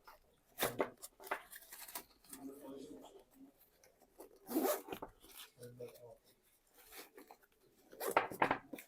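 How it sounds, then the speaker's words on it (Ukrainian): Two zippers open on the inside of a tactical groin-protector pouch, giving several quiet, short rasping pulls separated by pauses, close to the microphone, with faint handling rustle between them. "Розглянемо внутрішню сторону, відкривається двома блискавками."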